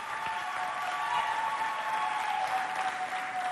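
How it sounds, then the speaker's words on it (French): Audience applause at a youth neighbourhood house event, dense steady clapping from a crowd, loud and even throughout with no talking over it. "On les applaudit bien fort."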